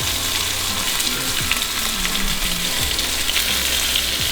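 Blackened wahoo fillets searing in a hot pan, a steady, close sizzle and fry with faint scraping of utensils, no voices.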